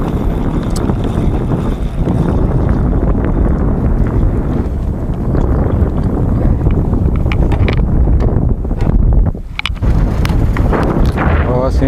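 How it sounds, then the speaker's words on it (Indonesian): Strong gusty wind buffets the microphone aboard a boat on a sea fishing trip, a constant loud roar with water and hull noise beneath it, dipping briefly near the end. "ini tiba-tiba anginnya kenceng"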